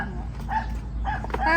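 A small dog gives short, yappy barks with whimpering yips in a few quick bursts, close to the microphone, over low background noise.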